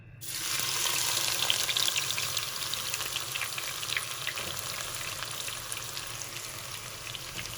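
Sliced onions drop into hot ghee and fry with a loud, steady crackling sizzle that starts abruptly and holds close and even for several seconds.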